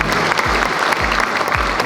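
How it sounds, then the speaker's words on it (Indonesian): Dense, loud audience applause at a party anniversary event in Indonesia, sustained clapping from a large crowd with low thumping beats underneath. "Tepuk tangan sekali lagi buat Hanura."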